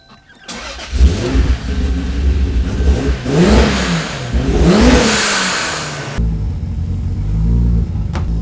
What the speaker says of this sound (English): Now it's time to start the car and make sure it's charging okay.